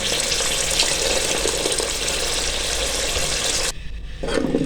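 Water pours into a pot of thinning beef stock (yakhni) for beef qeema pulao, a steady close rushing splash that runs unbroken, briefly drops away near the end, then resumes. No one talks.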